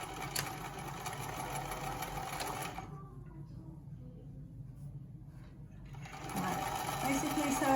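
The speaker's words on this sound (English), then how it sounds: "I'm going to sew seams all across the top and almost all the bottom" A sewing machine stitching 1.5 cm seams across fabric for a COVID-19 face mask, whirring steadily up close, dropping away briefly in the middle, then starting up again.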